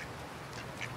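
Ducks quacking while being fed corn outdoors among geese, a faint nasal quack near the end over a soft noisy background.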